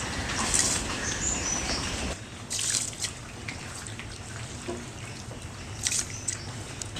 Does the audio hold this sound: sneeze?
no